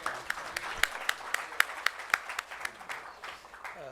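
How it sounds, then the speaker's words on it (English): Applause from an audience at a legal education event in a Delhi hotel, a steady wash of many hands with sharper individual claps standing out, fading slightly toward the end. "Please give him an applause."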